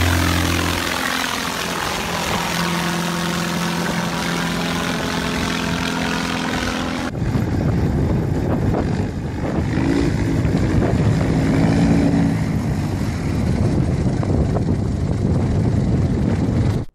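A vertical take-off aircraft roars loudly and continuously in flight, its engine and rotor drone shifting abruptly in tone about halfway through.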